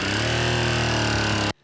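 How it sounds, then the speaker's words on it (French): A motorcycle engine runs again after being cooled down with water, holding a steady, loud idle with a buzzing drone before cutting off abruptly. "L'engin est à nouveau en marche."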